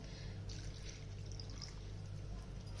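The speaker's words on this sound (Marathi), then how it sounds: "थोडं थंड पाणी टाकते" Cold water trickles and pours softly into blended drumstick pulp, faint and continuous over a steady low background hum.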